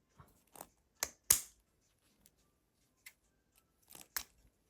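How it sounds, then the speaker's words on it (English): A pipe cleaner's wire core is snipped with scissors during a craft session, giving a few sharp, isolated clicks and snaps spread over several seconds in a quiet room. "And then you're going to cut it."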